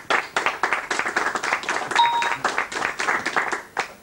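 An audience applauds for Roni at an Israeli advertising event, a steady run of brisk hand claps of moderate loudness that continues for about four seconds, with a brief bright ding partway through.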